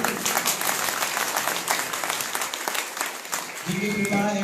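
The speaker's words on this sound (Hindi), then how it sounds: "ताली जोर से बजाइए।" Audience applause at a Srimad Bhagwat Katha religious discourse gathering: sustained, dense clapping from a large crowd that holds steady for several seconds before a voice begins speaking over its final moments.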